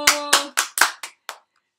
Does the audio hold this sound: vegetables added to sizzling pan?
no